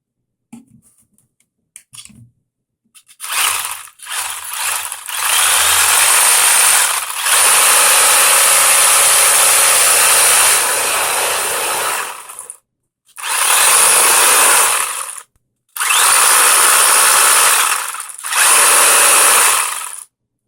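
Loud mechanical whirring and clunking from a Tamiya TA01 RC car drivetrain in repeated bursts, long sustained runs broken by short pauses, close up with a harsh clattering edge.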